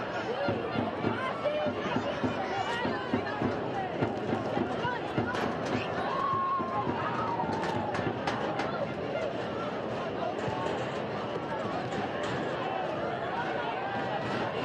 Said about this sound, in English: especially now the crowd's back into it